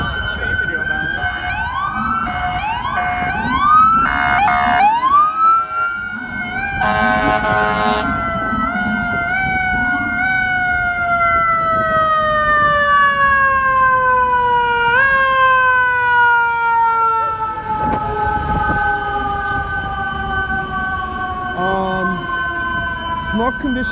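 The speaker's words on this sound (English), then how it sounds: "Battalion Chief siren is stuck." A stuck FDNY battalion chief vehicle siren wails, sweeping up and down continuously, loud and close, with a steady electronic tone gliding between pitches and faint voices underneath, at a commercial fire.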